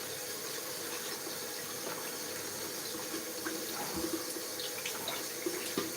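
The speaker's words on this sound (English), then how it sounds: "I'm going to wash that quickly." Tap water runs steadily into a kitchen sink while food is rinsed during pizza margherita preparation, a constant close rushing stream with faint splashes and no talking.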